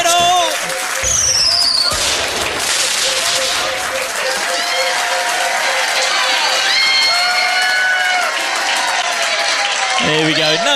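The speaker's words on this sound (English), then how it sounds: "give him a big round of applause" An audience at a pub trivia quiz claps in a dense burst of applause with some cheering, while a host's voice carries over it.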